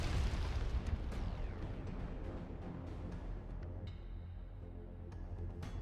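A rocket explodes on a character in the turn-based game Wasteland 3, a heavy boom that fades into a long, low, rumbling roar with no voices over it.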